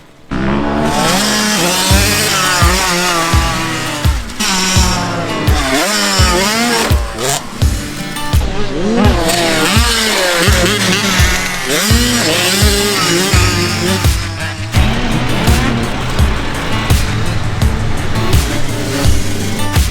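A dirt bike engine revs loud and close, rising and falling in repeated throttle bursts with a raspy, buzzing tone before it settles into a steadier roar.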